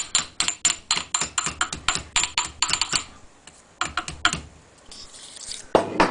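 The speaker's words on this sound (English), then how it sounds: "Right, the hammer. And then you just lightly tap your seal on down in here." Rapid series of light metallic hammer taps in quick rhythm, close by, seating a fork seal on a Yamaha BW200, slowing into a few scattered taps before a final sharper knock.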